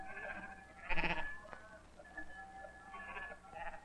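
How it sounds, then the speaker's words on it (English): Sheep and goats bleat on a Norwegian farm in a 1948 film, several wavering calls from animals at moderate distance, some overlapping, over a faint background hiss with no talk. "we children take the cows and sheep and goats to another grazing place"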